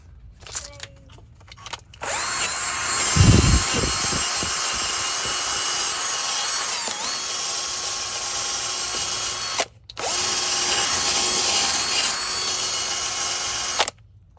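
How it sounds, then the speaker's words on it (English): A power drill with a wire wheel scrubs a rusty, road-salt-crusted front wheel hub on a 2011 Dodge Ram 1500 4x4, a loud steady whirring grind that runs for about twelve seconds with one brief pause. "we're going to clean this up with a wire wheel"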